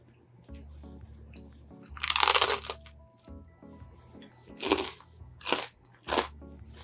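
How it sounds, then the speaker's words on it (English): Crusty bruschetta on crunchy bread chewed near the mic, giving a loud burst of crackling crunch followed by three or four shorter crisp chewing crunches, with no talking over it. "What a crunch."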